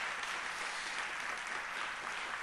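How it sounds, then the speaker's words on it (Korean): A church audience claps steadily to welcome singers coming forward for a special song, a soft, continuous, even patter of applause heard at some distance with no talking. "앞으로 나오실 때 우리 박수로 우리 축복하며 환영하겠습니다."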